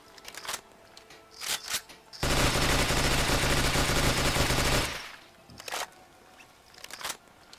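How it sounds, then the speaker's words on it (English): FAMAS bullpup rifle from a Fallout 4 mod firing one long, loud burst at an extremely high rate of fire for about three seconds, with shorter clicks and handling noises before and after. "this weapon, like I said, has got a ridiculous rate of fire"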